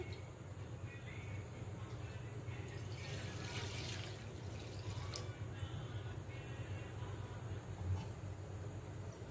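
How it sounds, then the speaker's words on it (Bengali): Milk, about 500 ml, pours steadily into a pot on the stove for semai pitha, giving a soft continuous liquid wash over a low background hum with a few brief splashy accents. "দুধটা এরপর ঢেলে দেবো আমি।"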